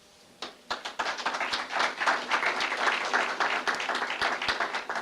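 An audience applauds a congresswoman at a press conference on a Virginia economic plan in Suffolk, the clapping building quickly from a few early claps into sustained, fairly close applause that holds steady to the end.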